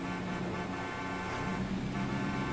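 Car horn honking in Grand Theft Auto V while driving through a tunnel, a sustained horn tone over steady roadway and engine noise, fairly loud with no talking.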